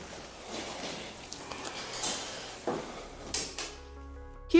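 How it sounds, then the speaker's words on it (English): A holding cell door latches shut in a police station: a few dull metallic clunks over steady room noise, ending in a sharper knock. "the sound you hear in the video is the holding cell door latching shut."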